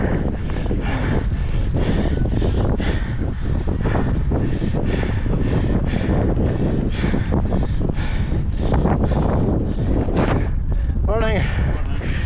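Strong wind buffeting the microphone outdoors at a hilly parkrun course, a loud continuous roaring rumble with gusting surges throughout, and a brief high whistle-like sweep near the end.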